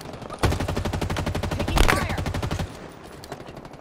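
Rapid automatic gunfire from the Halo video game rattles in a dense, steady burst for about two seconds, then cuts off abruptly, leaving faint background game noise.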